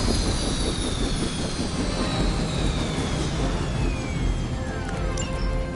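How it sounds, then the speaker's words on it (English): A helicopter in a video game, a steady heavy engine and rotor roar with a descending whine passing through, loud and continuous with no voices. "Stop that chopper, please."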